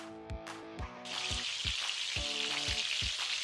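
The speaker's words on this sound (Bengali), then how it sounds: "কড়াইতে তেল গরম করে আমরা এই পেঁয়াজ পেস্টটা দিয়ে দিচ্ছি।" Onion paste with ginger and garlic hits hot oil in a wok and breaks into a loud, steady sizzle that runs to the end, with several clear thumps of a spoon or pan knocking before and under the frying.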